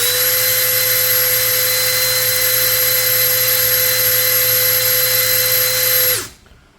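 A DeWalt DCD805 cordless brushless drill runs at speed setting 1 in drilling mode, giving a loud, steady motor whine that holds for about six seconds and then cuts off, leaving quiet.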